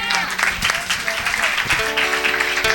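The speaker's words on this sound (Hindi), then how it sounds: "ज़रा ज़ोरदार तालियां अपने जिंदा खुदा के लिए बजा दीजिएगा।" Applause from a church congregation at a Hindi-language worship gathering, steady clapping filling the room throughout, with voices and faint tones mixed in under it.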